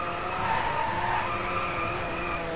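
Tires skid and squeal steadily as a car drifts through a corner in the racing game DRIVECLUB, a continuous loud screech over engine roar with no pause.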